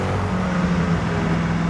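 The V8 engine of a Koenigsegg Agera R, heard from inside the cabin, gives a loud, steady, low drone with a constant tone for a short moment, with no voices.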